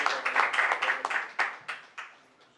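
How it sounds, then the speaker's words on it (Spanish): An audience claps in welcome for a lecturer at a university conference in Lima, a short burst of applause that fades out within a couple of seconds. "Vamos a recibir entonces al doctor Ole con fuertes aplausos"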